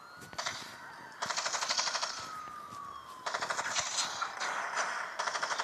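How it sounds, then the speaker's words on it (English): Video game gunfire, heard as long bursts of rapid automatic shots repeating in rhythmic volleys with brief gaps, fairly loud and without talk. "no shooting the king"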